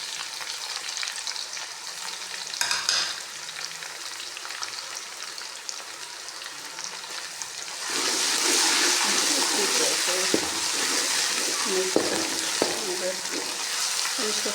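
Browned onions sizzle and crackle in hot oil for an aloo gobi base, then ginger garlic paste goes in and the pan is stirred. The frying grows noticeably louder and brighter partway through, with scraping stirs on top and some talking.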